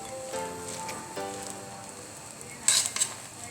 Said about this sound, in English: going to mix the pumpkin into the rice